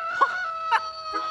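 Cartoon rooster giving three short, clucking calls spaced evenly apart, heard over a steady sustained musical tone.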